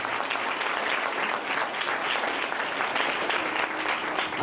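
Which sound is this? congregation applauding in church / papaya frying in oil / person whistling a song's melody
congregation applauding in church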